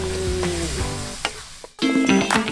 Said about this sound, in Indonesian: sekarang mama tumis dulu bumbunya nih